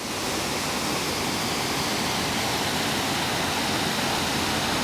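Water pours over a weir on Bedale Beck at Bedale Harbour in North Yorkshire, a dense, constant rushing roar heard up close with no pauses or voices.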